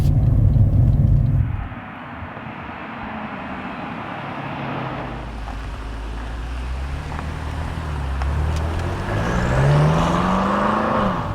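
A 2018 BMW M5 F90 with a 600-horsepower engine cruises on a city road, its engine a steady low rumble that swells and rises in pitch toward the end, with a louder burst of noise at the start.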